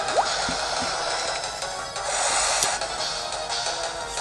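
Watery splashing and squishing from the Water Sport move in Pokemon Black & White 2, a steady wash of bright liquid sound across the whole stretch with a few small drips, close and fairly loud, no talking.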